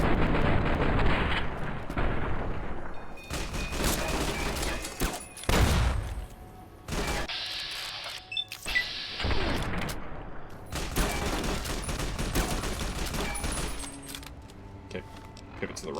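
Marksman carbine gunfire in the video game Fallout New Vegas, several loud sharp shots and bursts with brief pauses between them, mixed with metallic clinks and other game sounds, close and aggressive.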